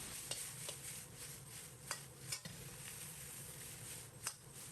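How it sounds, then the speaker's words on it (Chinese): Garlic sprouts and fried egg stir-fried over high heat in a wok, a steady quiet sizzle broken by a few scraping stirs and metallic clinks of the spatula against the pan. "继续开大火翻炒扒拉5、6、7、8下，把蒜苗炒至断生。"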